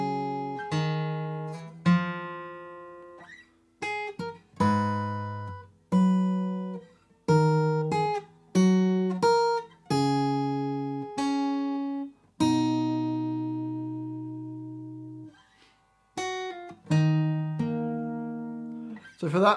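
Slow fingerstyle acoustic guitar plays the next phrase of a melody as plucked notes and chords, some left to ring out long, close and clear, with no talking.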